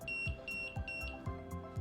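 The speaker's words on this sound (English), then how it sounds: "if I press this push button, this light will be red color and this buzzer will buzz" An ESP32 Pomodoro timer's buzzer sounds in a steady repeating pattern, four short electronic beeps at even intervals, close and clear with faint clicks underneath.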